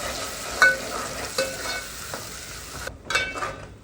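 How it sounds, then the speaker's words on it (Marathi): Ground spice masala stir-fried with tomato in a pan for a Rohu fish curry, a steady close sizzle with sharp scraping stirs recurring throughout, no voices. "आता आपण त्याच्यात वाटलेला मसाला सोडूया. आणि मसाला चांगला परतून घेऊया."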